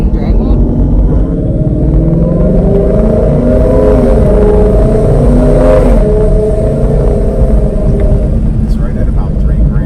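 A car with a rotted muffler revs hard and shifts gears, a loud, continuous raspy engine rumble that swells and dips throughout while people talk over it.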